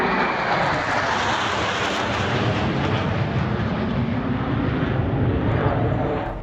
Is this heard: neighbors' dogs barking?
no